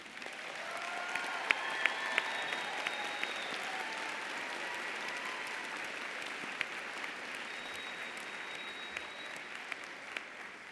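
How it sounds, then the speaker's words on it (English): A standing audience at the UIC Jane Addams College of Social Work spring commencement keeps up long, even applause that sounds somewhat distant and soft, a continuous bed of clapping with occasional sharper claps. "I want all of you to stand again, and another round of applause."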